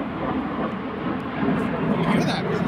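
A broad, steady roar of a passenger plane passing overhead, unseen above cloud cover, rising slightly in loudness midway through and continuing without a break.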